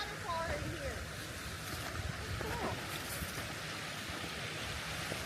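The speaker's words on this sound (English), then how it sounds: "And there is a little waterfall" A small waterfall flows beside a narrow, icy winter hiking trail in Pennsylvania, heard as a faint, steady rushing of water that continues throughout.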